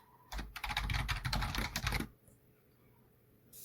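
Code being typed on a computer keyboard: a quick, close run of keystrokes lasting about two seconds, then quiet.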